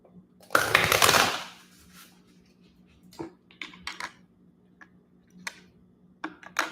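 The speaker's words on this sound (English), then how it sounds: "Let's shuffle." A deck of tarot cards is shuffled in one loud, close riffle, followed by scattered soft taps and clicks of the cards being squared and handled.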